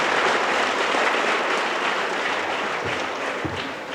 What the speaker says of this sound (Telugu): క్లాప్స్ మస్తు కొడుతున్నారుగా